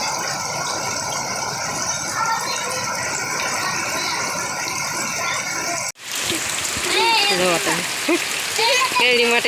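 Rain pours down in a steady, even hiss for about six seconds, then cuts to a closer, rougher patter with people talking over it.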